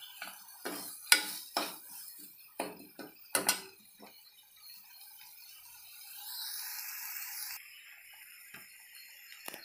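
Masala being dry-roasted in a pan for village-style kharda mutton, heard as a spatula clinking and scraping against the metal in irregular knocks, followed by quieter stirring with a faint steady tone, no one talking.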